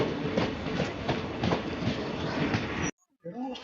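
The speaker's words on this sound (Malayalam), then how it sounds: "ഈ ട്രെയിൻ ഒത്തിരി തന്നെ ഉണ്ട്" A long train rolls past a crowded station platform with a continuous close rumble and wheel clatter, then cuts off abruptly into a short gap and a faint voice.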